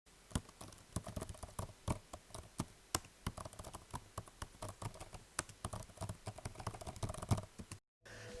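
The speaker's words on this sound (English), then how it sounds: "the keyboard sound is also very satisfying" Rapid, uneven clicking of the keys on a 2020 Apple 13-inch MacBook Pro being typed on, close and crisp, with a brief pause near the end.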